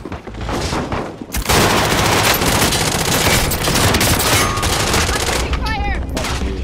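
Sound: gunfire in Call of Duty: Modern Warfare video game

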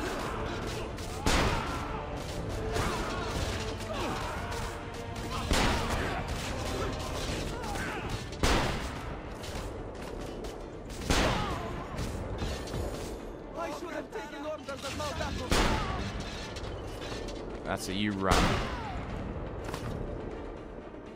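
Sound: cannon fire and gunfire in Assassin's Creed Revelations video game

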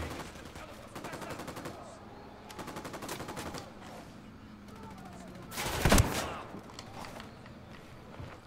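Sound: gunfire in video game Ghost Recon Wildlands

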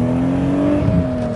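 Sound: modified BMW E36 M3 engine revving

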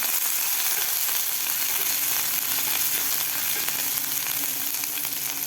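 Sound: frying chili, garlic and ginger paste

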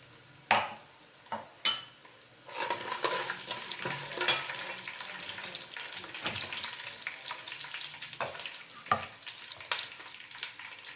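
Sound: crushed garlic frying in oil

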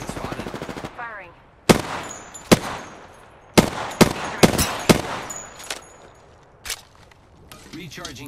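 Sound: gunfire in Apex Legends video game

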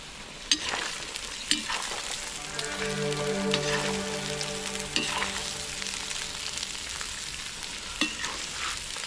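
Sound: onion sliced into half rings frying in a cauldron

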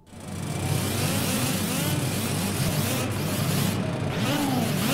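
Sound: car engine revving in the video game Project Cars

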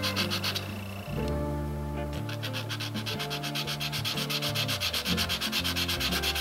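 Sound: sanding a clear plastic model kit part with 400-grit

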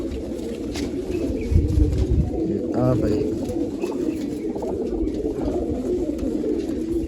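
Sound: pigeons cooing

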